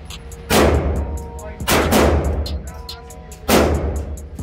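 Ruger LCP .22 LR pistol fired at a shooting range: three loud, sharp gunshots about a second or more apart, each with a brief ringing decay, close to the listener.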